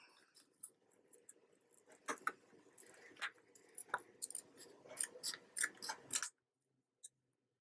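Scissors snip through craft material nearby in a series of small, quiet cuts that quicken toward the end, then stop abruptly.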